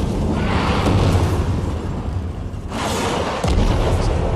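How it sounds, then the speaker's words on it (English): Orbital bombardment in a Warframe trailer: heavy, continuous booming and rumbling explosions, with a fresh blast around the midpoint and another sharp impact near the end. "We're still being bombarded from orbit."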